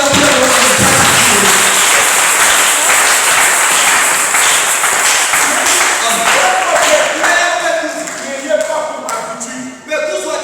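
A church congregation clapping and cheering during a worship service, dense loud applause that fades toward the end as shuffling and a voice begin to come through.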